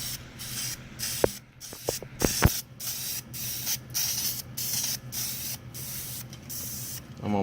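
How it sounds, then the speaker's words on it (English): A can of spray paint hisses in repeated bursts as it coats brake calipers, with short gaps between sprays and a few clicks and taps of handling mixed in, fairly close and moderately quiet. "I'm almost out of spray paint."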